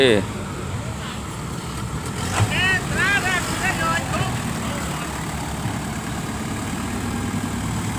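A tractor engine runs steadily while helping a truck up a road, a low continuous rumble under people talking throughout.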